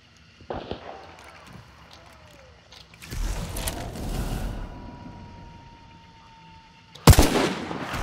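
Gunshots in a video game: a sharp crack early on, then a long echoing tail and a second loud, close blast near the end over quiet background noise.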